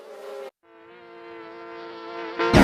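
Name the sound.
buzzing bees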